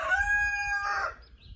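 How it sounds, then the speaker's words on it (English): An egg-laying chicken on a small homestead gives one drawn-out, crowing call, loud and close, that breaks off into a rougher tail before going quiet. "We've got egg laying chickens."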